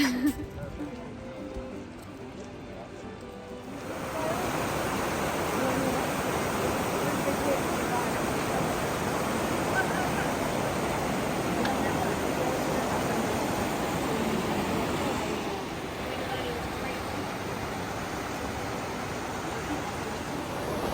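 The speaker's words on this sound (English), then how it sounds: "We must be getting close to the waterfalls because we can hear it." A steady, broad rushing roar of a waterfall in Yosemite Valley heard from a distance, swelling after a few seconds and holding even, then easing slightly.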